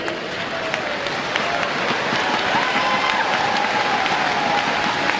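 Applause and crowd noise from spectators at the All England badminton women's singles final, steady and moderately loud throughout, with some voices mixed in and a faint whistle-like tone.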